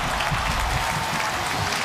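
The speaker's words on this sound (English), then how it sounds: "A happy whiteout crowd in East Lansing today." A large whiteout stadium crowd in East Lansing roars and applauds after a Michigan State 23–7 football win over Notre Dame, a dense, loud and steady wash of cheering.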